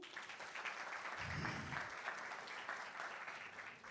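An audience at a Vix Academy 2025 lecture gives steady applause, a moderate wash of clapping lasting several seconds at some distance, with a brief low rumble partway through.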